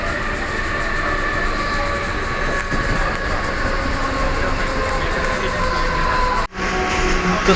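A Mumbai local train runs with a loud, steady rumble and clatter of wheels on rails heard from on board. A brief dip and a jolt come near the end, with faint voices blended into the noise.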